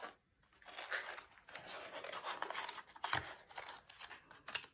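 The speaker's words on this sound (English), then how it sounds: "I'm going to then cut some of these little leaves from it" Scissors snip through paper, cutting out small leaf shapes for a flower-and-vase collage, with close, repeated crisp cuts and rustles in short bursts.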